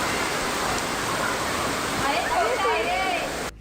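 Monsoon floodwater surges loudly through a drain in Virar near Mumbai after heavy rain, a continuous roaring rush of churning water close by with a brief swell of splashing near the end.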